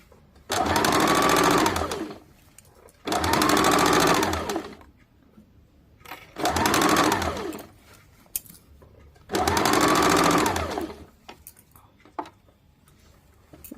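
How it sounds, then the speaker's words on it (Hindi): Sewing machine stitching the side seam of a kameez, running in four separate bursts of steady whirring separated by short quiet pauses, close and clear with no talking. "इस प्रकार से साइड वाले चाक में सिलाई डाल देंगे।"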